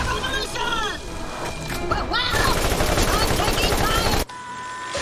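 Dense gunfire and combat effects in Borderlands (Game of the Year Edition, DLC finale) fill the clip with busy, loud shooting layered under chattering game voices, then cut abruptly near the end.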